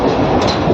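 A moving passenger train heading for Silchar rumbles steadily and close, with broadband rail noise and faint wheel clatter filling the whole moment.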